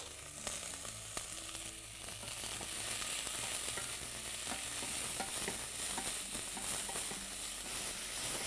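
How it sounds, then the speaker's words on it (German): Green leek sizzles steadily in a pan as part of a vegan leek side dish, a close, continuous frying hiss with scattered light scrapes and clicks of stirring, no voices. "nach etwa einer Minute geben wir den grünen Lauch dazu und braten ihn auch ungefähr eine Minute mit"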